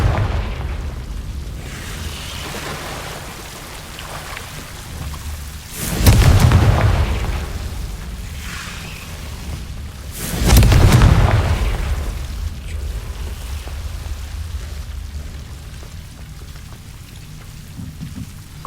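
Two heavy booming blasts from Confringo fire spells in Hogwarts Legacy, each a loud, broad burst that fades over a couple of seconds, set against a continuous crackling, rain-like hiss.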